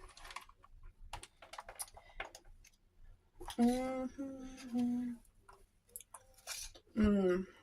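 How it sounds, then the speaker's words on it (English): Crunchy nuts are chewed close up in quiet, irregular crisp bites, spread between bursts of a person speaking over them. "Nuts not only give you the crunch, they give you just the perfect amount of healthy fat and protein."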